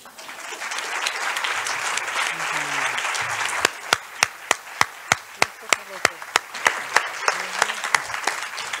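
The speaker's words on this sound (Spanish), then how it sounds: "Así que le doy muchísimas gracias y un fuerte aplauso." Audience applause at a Spanish-language presentation of a reading-competence report: a sustained wash of clapping from a crowd, followed by a run of sharp, evenly spaced single claps standing out near the end.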